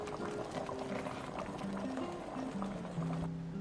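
Jjajang sauce made from powder and a little water bubbles and simmers in a pot, a steady soft wet gurgle with faint clinks, close and continuous.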